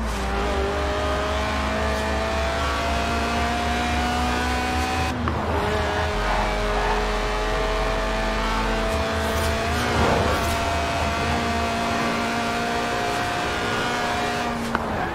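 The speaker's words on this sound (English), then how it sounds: "Right then, the Lotus Elise, a 90s classic based on the age-old Roadster recipe." Lotus Elise Sport 190, a stripped-out, mid-engined rear-drive roadster tuned for track days, driven in Forza Horizon 4: a loud, steady engine drone with rising and falling revs through gear changes, continuous and close.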